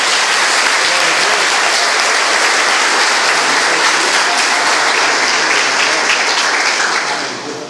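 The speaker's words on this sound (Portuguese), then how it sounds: "Então vamos aplaudir bem forte." A church congregation applauds loudly and steadily, a dense wash of clapping that carries on without pause and eases off only at the very end.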